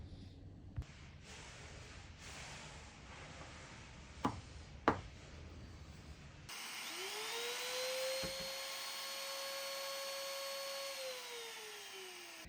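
A small rotary machine grinds leftover fret tang residue on a handmade acoustic guitar. It starts after a few quiet handling knocks, then spins up into a high, steady whine that holds close and alone for several seconds.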